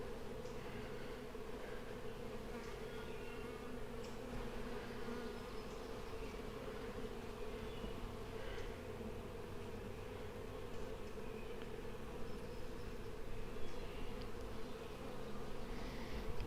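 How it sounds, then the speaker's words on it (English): Honey bees swarm over a heavy hive frame during an inspection, a dense continuous buzzing drone that stays steady and close throughout, with no talk. "Heavy frame. Completely covered in bees."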